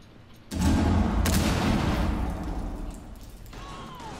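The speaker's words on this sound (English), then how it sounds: "Freaking explosions happen everywhere." A video game explosion erupts suddenly with a loud, broad roaring blast that rumbles on and slowly fades over several seconds.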